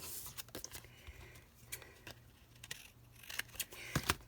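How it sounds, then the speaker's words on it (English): Scissors snipping paper while crafting a Paper Pumpkin project, a few scattered, crisp cuts and small handling rustles at close range with no talking. "I'm going to snip that off right there."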